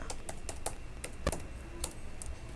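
Close, steady clatter of keys on a computer keyboard as code is typed out, with quick irregular taps and a few louder strikes standing out, no voices.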